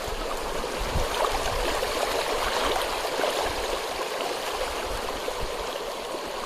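Cold, clear mountain stream water rushes and gurgles along a trekking route, a constant close, broadband flow with no voices.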